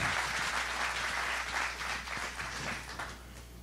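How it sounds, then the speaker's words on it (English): A church audience gives a sustained round of applause, steady and fairly close throughout, with a constant low hum underneath and no clear talking. "Will you guys give them a Mountain Movers round of applause?"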